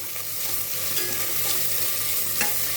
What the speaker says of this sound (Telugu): అల్లం వెల్లుల్లిపాయ పచ్చివాసన పోయిన తర్వాత 2 టమాటాలు కానీ 1 టమాటా